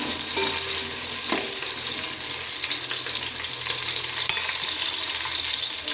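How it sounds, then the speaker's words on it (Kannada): Green chili and ginger frying in a pan for Mangalore-style chicken pulimunchi, a dense steady sizzle with occasional stirring scrapes, close and continuous without talk. "ಈಗ ಕಾಯಿ ಮೆಣಸು ಮತ್ತು ಶುಂಠಿ ಹಾಕ್ತಿದ್ದೇನೆ ಅದನ್ನು ಚೆನ್ನಾಗಿ ಫ್ರೈ ಮಾಡೋಣ"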